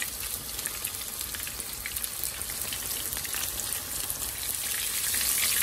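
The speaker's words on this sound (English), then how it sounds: "trust me, fish is very easy to fry, guys." Kingfish pieces fry in hot oil with a dense, crackling sizzle, steady and close, with fine popping spatters building slightly louder toward the end.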